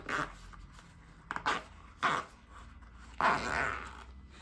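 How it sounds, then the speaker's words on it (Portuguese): A zipper for a plastic pouch is pulled apart in several short rasping bursts separated by quiet pauses, the last pull longer, close and moderately loud with no talk. "Aí agora eu vou destacar o meu zíper"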